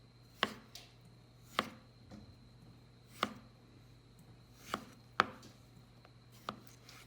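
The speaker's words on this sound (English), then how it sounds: "then I'm going to slice them to about 1/4 inch slices" A knife slices peeled cooked beets on a cutting board, with about seven crisp, evenly spaced thunks roughly a second apart against a quiet room.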